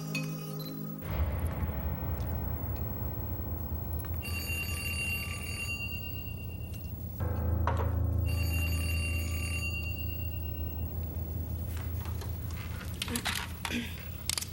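A telephone rings in a Quebec reality-TV house, its bright repeated bell bursts sounding near and clear over a steady low hum, with people talking around it.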